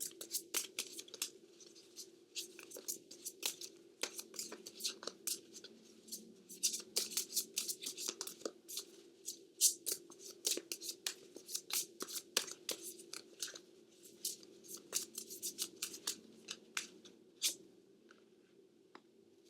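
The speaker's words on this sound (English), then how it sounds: "So let me pull an oracle card." Oracle cards being shuffled and drawn from a deck, a dense run of quick papery flicks and snaps with a soft riffling texture, close and fairly quiet, with no talking.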